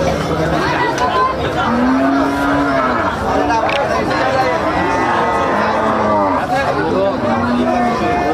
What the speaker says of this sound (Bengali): বাজারের সবচেয়ে বড় গরু, বাজারের সবচেয়ে বড় গরু।